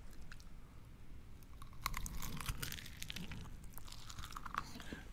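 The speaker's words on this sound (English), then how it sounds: "Now fold that orange in half and eat it." Close, crisp crunching and chewing as a cocktail-soaked orange slice from an Old Fashioned is bitten and eaten, irregular bites and mastication filling the moment without talk.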